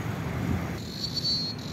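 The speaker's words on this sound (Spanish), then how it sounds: "Las chicharras de Siloé." Cicadas in Siloé, heard as a steady high buzzing drone that swells partway through over a low outdoor background hum, with no voices.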